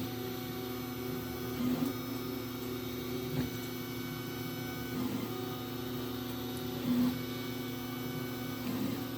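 A VzBoT 3D printer with an experimental hotend runs a high-flow extrusion test, giving a steady mechanical hum with faint tonal whine and soft periodic clicks or bumps every couple of seconds, close and alone.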